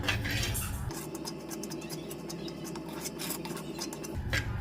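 Grated coconut roasting in a pan is stirred steadily, a soft continuous scraping and clinking of a spoon against the metal over low frying noise, with no talk.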